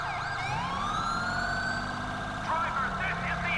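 A police car siren in GTA 5 with the LSPDFR police mod wails in rising and falling sweeps over a steady vehicle hum, then shifts to a faster warbling pattern near the end.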